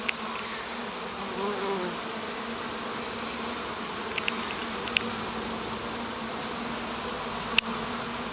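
A swarm of little black bees hums steadily and close by, a dense, continuous buzz filling the space, broken only by a few faint clicks and taps.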